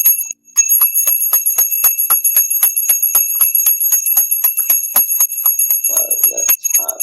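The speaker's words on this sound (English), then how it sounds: "You got your bell ready, Dave?" A hand bell rings out to open the market, a steady run of rapid, bright metallic strokes about seven seconds long, loud and close, with a brief voice near the end.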